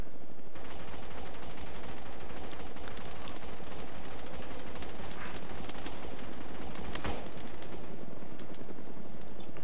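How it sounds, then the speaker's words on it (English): A helicopter's side-mounted minigun in a multiplayer shooter video game fires in a sustained, rapid rattling burst over rotor noise, loud and close, continuing for several seconds. "Left side minigun."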